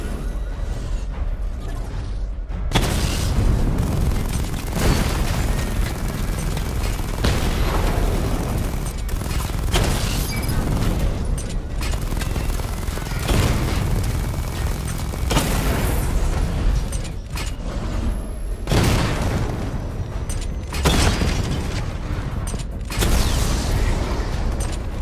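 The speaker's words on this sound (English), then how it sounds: "Charge the missile barrage to level 2 to destroy up to 4 targets at once." Missile barrage explosions in Batman: Arkham Knight hit as heavy repeated booms and bursts over a dense mechanical rumble, loud and sustained, with several sharp volleys spaced a few seconds apart.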